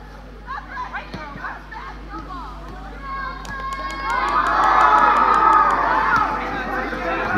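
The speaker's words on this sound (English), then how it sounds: "You can hear that is football in the field." Children playing football in an open field: distant crowd of kids shouting and cheering, with excited calls swelling into a loud collective roar midway before easing slightly, a busy outdoor ambience.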